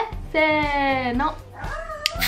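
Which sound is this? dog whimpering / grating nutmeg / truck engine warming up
dog whimpering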